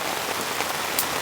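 A rainstorm at a van campsite gives a dense, even hiss of rain striking surfaces, loud and close with no break and a few brighter drop impacts over the steady wash.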